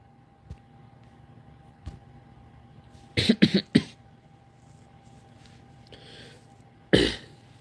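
A few soft thuds, then a close cluster of rough coughs, followed by a single hard cough after a pause, over quiet room hiss.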